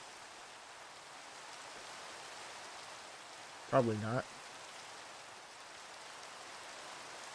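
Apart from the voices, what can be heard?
rain in the video game Minecraft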